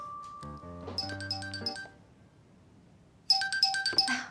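A phone ringtone plays a bright, tinkling electronic melody in two bursts separated by a short pause, heard clearly in a quiet indoor setting with no talking.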